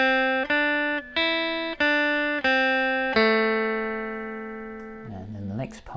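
Electric guitar picking out a riff, a run of clean plucked single notes each ringing briefly before the next, ending on a longer sustained note, close and alone.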